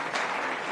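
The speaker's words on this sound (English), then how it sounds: "I think she deserves a round of applause for that" Audience applause at a church gathering, a short burst of dense clapping from a crowd, close and fairly loud, with no talking.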